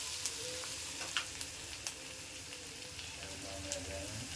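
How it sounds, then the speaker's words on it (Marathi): Onion, green chili and mustard seeds fry in oil for an ivy gourd bhaji, sending up a soft, continuous sizzle dotted with a few sharp pops and light crackles, close by and without voices. "त्याच्यामध्ये राई टाकली आणि कांदा आणि मिरची टाकली आणि आता आपण फ्राय करत आहोत"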